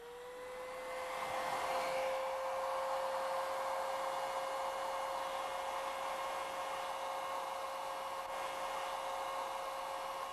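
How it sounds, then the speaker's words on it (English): A blower like a hair dryer heats a bimetal strip, giving a steady close whirring roar with a constant motor hum that runs evenly for about ten seconds, with no speech. "when I heat it, the bimetal tightens up more, and when I blow air over it"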